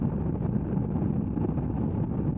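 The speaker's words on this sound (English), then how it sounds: "there is a lot of wind blast that even I can hear it a lot" Steady wind buffeting a microphone while riding a motorbike on a long road trip, a dense continuous low roar with no breaks, loud and close throughout.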